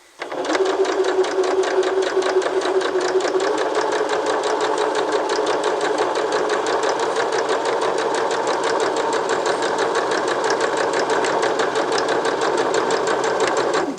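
Sewing machine running steadily, stitching forward and back along fabric during a sewing lesson; a loud, continuous rapid needle rattle holds without pause throughout.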